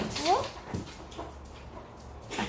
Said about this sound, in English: the dog coming inside.